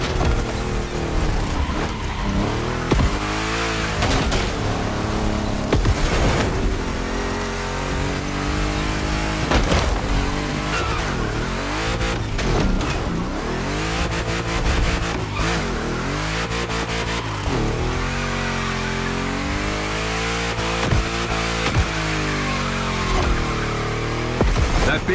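Big block car racing in The Crew Motorfest, a powerful engine roaring and revving continuously with rising and falling pitch sweeps and tire squeals, loud and close throughout.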